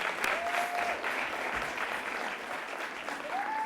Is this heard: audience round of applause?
yes